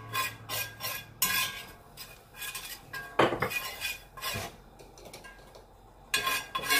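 A spoon scrapes and clatters against a pot while flour is stirred into shrimp Creole, giving a series of uneven, close metallic scrapes and knocks with short pauses between strokes and no talk.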